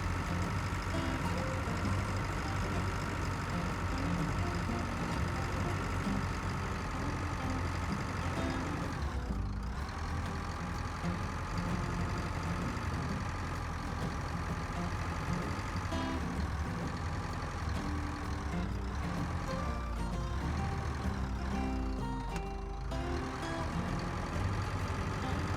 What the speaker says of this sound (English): This tractor should definitely have no problem pulling this cultivator then.